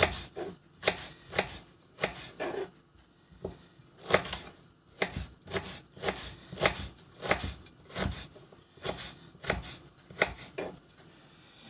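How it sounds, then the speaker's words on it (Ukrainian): A knife chops an onion into quarters on a cutting board, a steady run of sharp thuds with brief pauses, close and clear with no talking. "Тепер буду нарізати цибулю. Цибулю нарізаю четвертинками."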